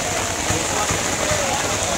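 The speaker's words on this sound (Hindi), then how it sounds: "बारिश बहुत ज़ोरदार बारिश हो रही है" Heavy rain pouring down at Ajmer Sharif shrine, a dense continuous hiss of drops on surfaces, loud and unbroken throughout.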